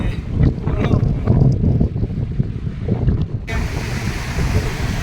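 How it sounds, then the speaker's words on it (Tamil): Strong ocean waves at Besant Nagar beach in Chennai churn in a steady, loud roar, with gusts of wind buffeting the microphone. "நம்ம கடல் அலை பயங்கரமாக இருக்குது."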